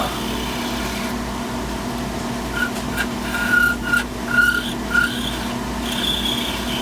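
Lathe turning an aluminum tube to true it round, a steady mechanical drone with a series of short high-pitched squeals from the cut in the middle, close and fairly loud.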